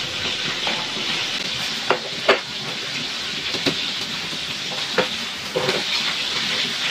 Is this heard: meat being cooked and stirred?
yes